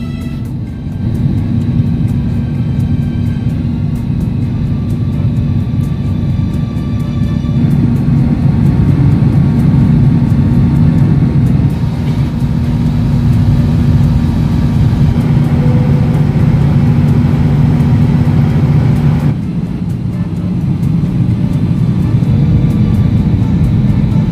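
Steady airplane engine drone inside the cabin on a flight from Negros to Manila, a loud, constant low roar with a faint hum that shifts slightly in tone over time, no voices.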